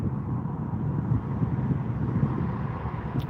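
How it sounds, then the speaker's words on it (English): Steady low wind rumble buffeting outdoors beside the West Coast Main Line railway north of Crewe, constant and moderately loud with no voices. "Sounds windy. There is a breeze, a cool breeze."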